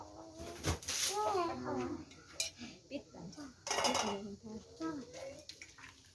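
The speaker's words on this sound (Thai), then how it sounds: "กำลังตักเนาะ" Chicken soup ladled from a pot, metal ladle clinks and scrapes against the pot rim interspersed with bowl clatter, heard close amid people talking, including a voice.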